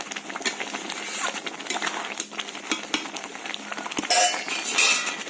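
Cooked tomatoes and beetroot are mashed with a stirring spoon in a pot, a wet squelching and clinking of metal against the pan in irregular strokes, with a voice talking over it.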